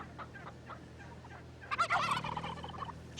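A wild turkey gobbles once, a loud rapid rattling burst near the end after a few faint clucks, heard fairly close with no voices.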